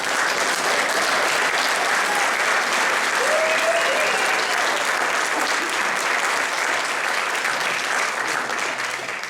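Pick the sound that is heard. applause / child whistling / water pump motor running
applause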